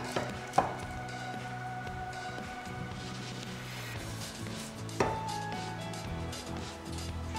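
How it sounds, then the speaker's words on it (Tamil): A knife cuts the tough stem portion off half a pineapple on a cutting board, with two sharp chopping thuds several seconds apart amid quiet kitchen clatter. "இதில இந்த தண்டு போர்ஷனை வந்து கட் பண்ணி எடுத்துறலாம்"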